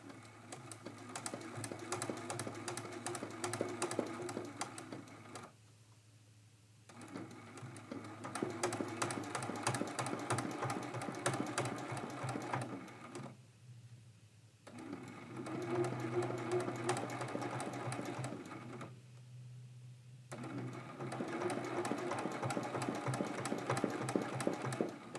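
A sewing machine stitches a quilt block in long steady runs of rapid whirring, broken by three short pauses, close and fairly quiet with no talk.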